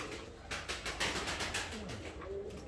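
Pigeons coo softly in a short series of low, rolling calls, with a few faint rustles and other bird sounds around them at a fairly quiet level.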